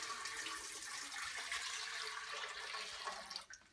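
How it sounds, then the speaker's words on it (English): Four cups of water poured into a pot on a stovetop burner while cooking, a steady rushing splash that runs evenly for several seconds and cuts off near the end. "So we're going to add our 4 cups of water in here."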